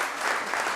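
A short burst of audience applause from a cycling event gathering in Florence, steady clapping filling the whole moment without voices.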